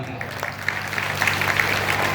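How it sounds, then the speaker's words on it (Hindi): A crowd at a religious gathering claps for a revered spiritual teacher, a rough, building patter of applause over a low steady hum. "ऐसे ही हमारे डॉक्टर नीलगिरी जी महाराज को जोरदार तालियां"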